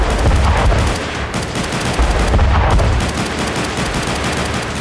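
Dense, continuous gunfire and artillery shelling from the Armenia–Karabakh war, with rapid overlapping bursts and heavy booming impacts, loud and relentless throughout with no voices.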